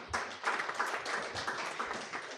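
Audience members clap to welcome a guest at a public press engagement, uneven bursts of handclaps from a small group nearby, with no speech over them.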